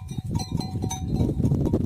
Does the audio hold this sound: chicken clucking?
no